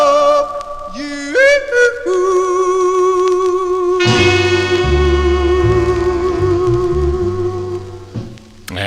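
A 1957 recording of a song plays from a vinyl record. Sustained vocal and instrumental tones rise and then give way to a fuller band passage, loud and continuous, with no spoken voice.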